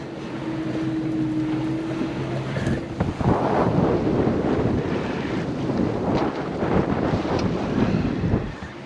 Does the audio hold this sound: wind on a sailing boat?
yes